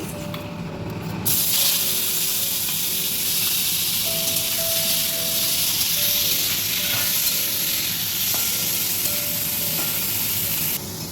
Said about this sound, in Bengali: তেলটা গরম হয়ে গেছে, আমি এখানে চিংড়ি মাছটা ভেজে নিচ্ছি।